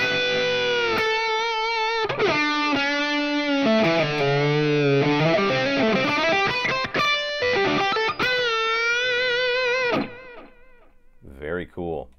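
An electric guitar runs through an HX Stomp effects unit with its expression pedal pushed forward, giving sustained, heavily processed tones that bend and shift for about ten seconds before a few short fragments close it out.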